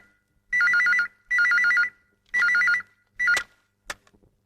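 A telephone rings with a trilling electronic bell in three long bursts and a cut-short fourth, followed by a click as the handset is picked up, loud and close in a quiet room.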